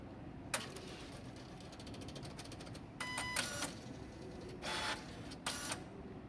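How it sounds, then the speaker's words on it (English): A Lipi PR2 printer, under repair, initializes with its rollers moving: a sharp click opens, then several short bursts of buzzing, ratcheting motor and roller whirs stand out over a quiet hum. "check the printer should initialize and roller should not move."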